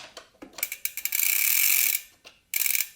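Ratchet wrench clicking as the centre bolt of a SRAM mountain bike crank is undone, with short irregular clicks, then a sustained fast ratcheting run, a pause and another quick burst, close up with no talk.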